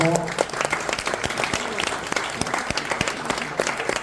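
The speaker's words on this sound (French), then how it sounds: "On applaudit bien fort." Audience applause at an art exhibition opening in the Morvan during a prize presentation, brisk close clapping from a room full of people with a few individual sharp claps standing out, voices briefly audible at the start.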